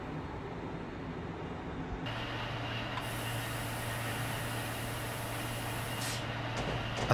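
A Railjet train running at speed, heard as a steady, loud rumbling drone with a constant tonal whine that shifts in pitch partway through.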